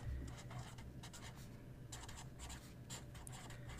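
Pen scratching steadily across paper as a question is written out by hand, close and fairly quiet, with short strokes and pauses in a continuous scribbling rhythm.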